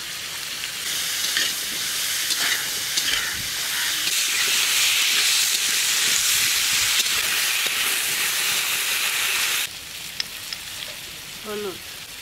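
Potatoes frying in hot oil after fish in a home kitchen, giving a loud, steady broadband sizzle for about nine seconds that then drops to a quieter hiss, with a faint voice near the end.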